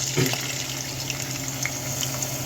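Blended garlic, ginger and onion poured into hot oil for a peanut butter soup, producing a short liquid splash followed by steady sizzling and bubbling frying close by.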